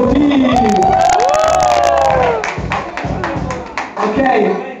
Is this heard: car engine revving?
no